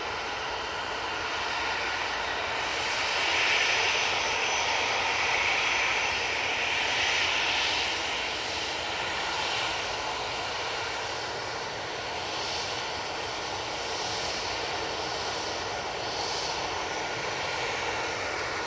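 An EasyJet Airbus A320-200 departing Manchester Airport for Pisa gives a loud, sustained jet engine roar that swells and slowly fades, a broad rushing noise heard at a distance with no talk.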